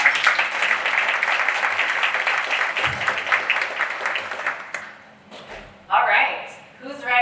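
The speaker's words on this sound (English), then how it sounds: "Please give them another round of applause." An audience at a California public event applauds in a sustained, crowded burst of clapping and cheering that fades away after about five seconds, followed by someone speaking.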